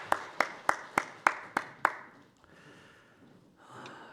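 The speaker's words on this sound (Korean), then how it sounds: "하나님께 영광 박수 드리겠습니다" A church congregation at a Sunday worship service claps seven times in quick, even unison, then leaves only quiet room tone.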